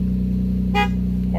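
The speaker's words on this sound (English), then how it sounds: "Horn works." A 1994 Subaru Legacy GT car horn gives one short honk over a steady idling engine inside a garage, near and moderately loud.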